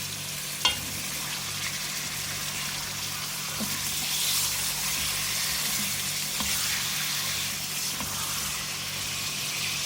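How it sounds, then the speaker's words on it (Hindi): Chicken frying in a pan with whole spices, a continuous close sizzle with occasional utensil clinks and stirring, alone without voices. "चिकन को इतना फ्राई करेंगे इसका कलर चेंज हो जाए।"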